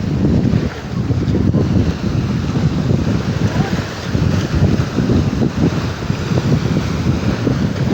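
Sea waves slap and crash against a small boat on open water, a loud churning wash of water under constant buffeting wind noise, with no speech.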